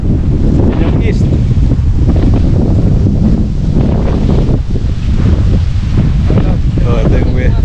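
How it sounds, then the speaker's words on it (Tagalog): Strong wind in Marinduque roars steadily into the microphone, a loud, constant buffeting rush with gusty surges throughout. "Lakas ng hangin, grabe."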